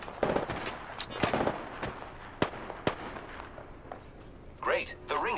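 Video game gunfire cracks out in scattered sharp shots, some close together and some spaced apart, over a busy background, with a voice talking near the end.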